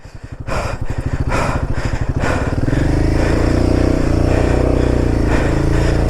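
A motorcycle on an India-to-Nepal tour rides over a rough road: a loud, close engine drone after a few choppy bursts, then a steady, throbbing rumble.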